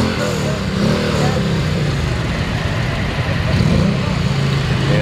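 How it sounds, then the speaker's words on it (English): Indian motorcycles idle at the ABR Festival 2024 before riding out, a low rumbling engine drone holding steady with a slight swell near the end, with people talking faintly underneath. "Just waiting for these Indian motorcycles to head out."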